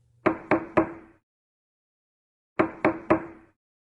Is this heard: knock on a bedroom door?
yes